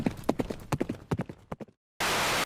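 A horse-hooves clip-clop sound effect: a quick run of about a dozen crisp, close hoof knocks that slows and fades out, followed by a sudden loud burst of steady hiss.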